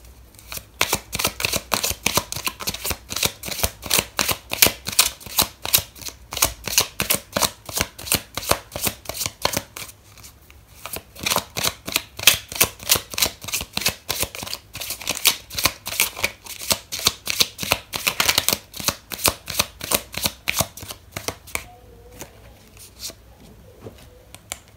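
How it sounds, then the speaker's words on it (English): Tarot cards are shuffled over and over in quick, crisp riffling bursts, close and fairly loud, with a brief pause near the middle before the rapid flicking resumes and then fades toward the end. "so I'm going to pull out another card for you"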